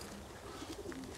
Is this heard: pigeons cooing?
yes